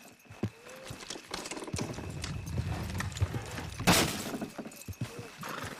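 Horse hooves clip-clopping in the video game Red Dead Redemption 2, a run of close, uneven hoof knocks with a loud crash midway and a brief neigh.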